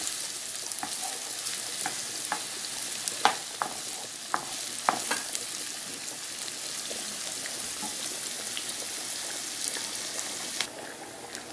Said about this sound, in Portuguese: nós vamos deixar a cebola fritar para nós continuar